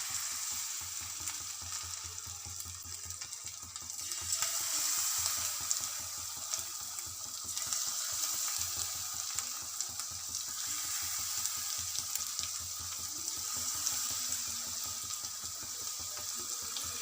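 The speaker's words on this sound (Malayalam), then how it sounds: "സൺഫ്ലവർ ഓയിൽ നന്നായിട്ട് ചൂടായിട്ടുണ്ട്. അപ്പോൾ ഇനി നമുക്കിതിലേക്ക് ഓരോ ചിക്കൻ പീസായിട്ട് നമുക്കിങ്ങനെ ഇട്ട് കൊടുക്കാം" Chicken pieces fry in hot sunflower oil with a loud, continuous crackling sizzle that swells after a few seconds and stays dense and close throughout.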